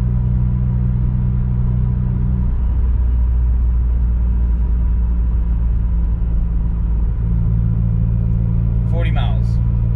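A 2016 Subaru WRX with a Remark axle-back exhaust cruises at 45 mph, giving a steady low engine drone and road rumble inside the cabin, with a brief higher sound near the end.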